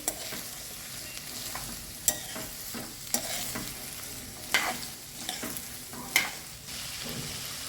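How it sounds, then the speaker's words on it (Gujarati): Potato pieces fried with green chillies and peanuts for a farali millet khichdi crackle in a pan while a spoon stirs them, with a soft sizzle and a few sharp scraping clicks against the pan at irregular intervals. "હવે એડ કરી દઈશું આ બટાકાના ટુકડા. એને પણ બરાબર મિક્સ કરી દઈશું."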